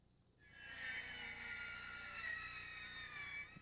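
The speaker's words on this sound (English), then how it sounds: "Measure and cut a new piece to fit snug into its space." A new 2x3 wood stud is cut with a hand saw in one continuous faint stroke of rasping, scraping noise lasting about three seconds.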